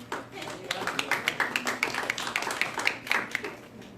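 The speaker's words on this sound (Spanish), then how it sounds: "Un aplauso por Rosy" Clapping rises from a congregation at a Bible study, a brisk round of many hands patting at a fairly even pace, fairly soft and close, with voices faintly mixed in.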